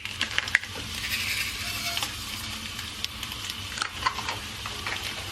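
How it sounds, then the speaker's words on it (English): Cumin seeds crackle and sizzle steadily in hot oil, a close bright hiss with scattered pops and light clinks throughout. "Add the cumin seeds, cook until they sizzle"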